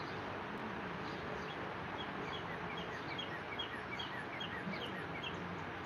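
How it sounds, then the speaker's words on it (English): Birds outdoors chirping faintly and steadily in the distance, many small calls scattered over a broad hiss of background noise. "Y'all hear the birds?"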